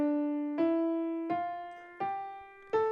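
A piano plays a major scale one note at a time, with four evenly spaced, rising notes that each ring and slowly decay, fairly quiet and alone.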